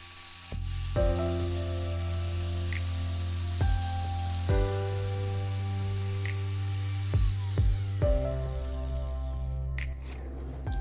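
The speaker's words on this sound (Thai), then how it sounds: "เราจะมาทำให้สวยงาม โดยการเจียครับ" An angle grinder smooths a garden scoop cut from old PVC pipe. It gives a steady, loud motor whine with repeated dips and surges as the disc bites into the plastic, and no voices are heard.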